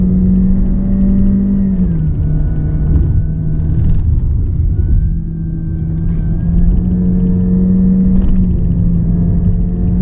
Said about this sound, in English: There's a bit of transmission whine, and of course you hear the engine and the CVT.